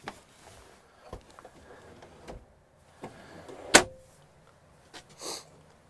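A storage drawer in a 2022 Winnebago Ekko 22A RV is worked at close range, giving a series of sharp knocks and clicks, one louder thunk near the middle, and a short sliding rumble toward the end.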